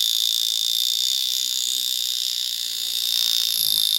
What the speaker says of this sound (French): les Vulcain Cricket, les montres à réveil